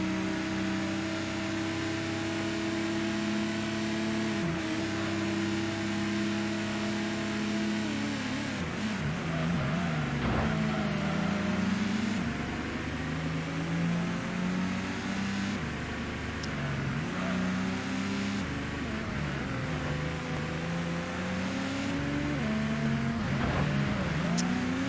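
Car engine droning and shifting pitch while driving in the PS1 game Gran Turismo, played on a PC emulator, with steady revving that rises and falls through gear changes for the whole stretch.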